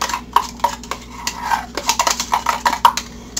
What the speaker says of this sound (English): Mix it up good.